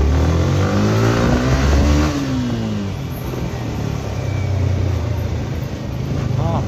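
A motorcycle on a night ride, its engine revving up and then droning steadily close by, with a rising and falling pitch as it accelerates through traffic.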